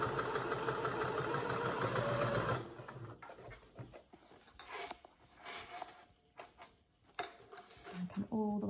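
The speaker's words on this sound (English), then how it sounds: "I'm going to do a few stitches forward and backward," A sewing machine runs a few forward and backward stitches through the fabric of an infinity scarf, humming steadily for about two and a half seconds, then gives way to quieter rustling and handling of the cloth.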